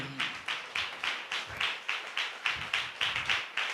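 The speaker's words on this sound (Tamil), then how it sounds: "நல்லா தான் கை தட்டுங்களேன்." A congregation at a church service claps in a steady, even rhythm, about three claps per second. The sharp, crisp claps sound close and carry on without pause, with no talking over them.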